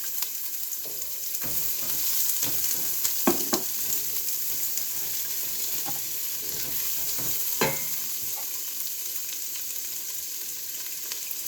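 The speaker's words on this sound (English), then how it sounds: "Now I'm going to add my onion in here." Chopped onion sautéing in a pan for cream of broccoli soup, a steady close frying hiss with a few sharper stirring scrapes and clinks, no talking.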